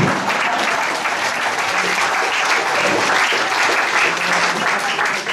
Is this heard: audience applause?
yes